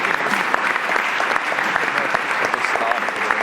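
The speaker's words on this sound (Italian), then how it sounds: "facciamo un applauso" Studio audience applauds athletes with steady, dense clapping close by for several seconds, no voices over it.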